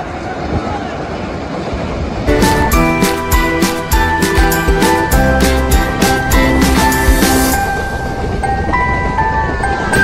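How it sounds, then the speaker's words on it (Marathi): A local train passes loudly and close through a village, its horn or bell-like tones sounding over rumbling wheels, with a steady background noise before it arrives. "हे बघा ट्रेन आली आमच्या गावामध्ये."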